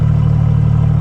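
A cold BMW E46 330cd diesel fitted with twin air cone induction idles loud and close, a steady pulsing drone with a regular throb and no voices.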